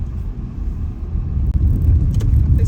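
A car rolls along with a heavy low rumble of engine and tires as it turns off the road toward a dirt track near a camp, steady and close with no talk.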